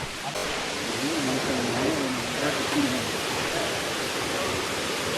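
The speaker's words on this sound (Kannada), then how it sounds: "ಗಾಯ್ಸ್ ಫೈನಲಿ ನಾವು ರೀಚ್ ಆಗಿರೋದು ಕ್ಯಾಥರಿನ್ ಫಾಲ್ಸ್." Catherine Falls near Ooty roars as a steady, dense broadband wash of falling water, loud and continuous throughout, with a faint voice briefly audible under the rush.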